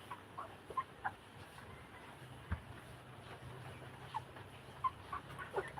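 Hybrid and native chickens, mostly roosters among the natives, pecking and clucking at feeding time, faint scattered clucks and small taps over a low, quiet outdoor background.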